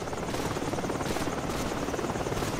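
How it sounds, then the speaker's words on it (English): Helicopters approach in the video game Call of Duty Modern Warfare, their dense, rapid rotor thumping loud and constant, filling the scene without pause. "Heads up! Choppers inbound!"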